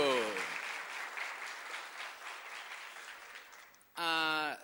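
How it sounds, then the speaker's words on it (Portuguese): A crowd claps in a steady, moderately loud round that gradually thins out and fades, then a voice breaks in at the end. "Uma salva de palmas, por favor."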